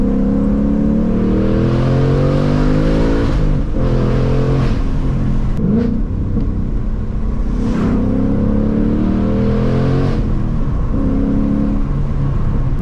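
A Ford Mustang Mach 1 with upgraded suspension is driven hard through turns, its engine droning steadily and loudly from inside the car and rising and falling as it accelerates out of each bend.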